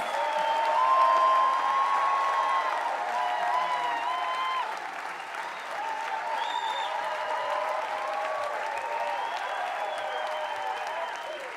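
A festival audience at a folk festival applauds and cheers steadily, a broad sustained roar of clapping and whoops heard from inside a large crowd.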